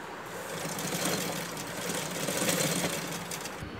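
A sewing machine stitches the leg seam of boys' shorts, a continuous close motor whir with rapid needle chatter, steady and moderately loud throughout with no voices.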